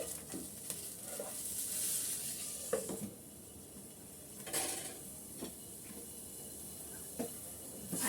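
Butter melts over hot popped corn in a pan, giving a soft hiss and sizzle with a few scattered clinks and scrapes from stirring; quiet and close, with no talking.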